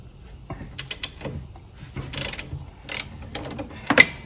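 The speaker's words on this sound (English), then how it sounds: "I recommend using a long handled wrench because they are on there pretty tight" Long-handled wrench loosening tight 16 mm bolts on a BMW S55 engine, heard as a series of close metallic ratcheting clicks and clanks in uneven bursts, with a few sharper knocks.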